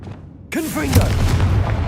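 A Confringo fire spell blasting in Hogwarts Legacy, a sudden booming burst halfway through followed by a rumbling, crackling tail, loud and close, with a voice calling out just before it.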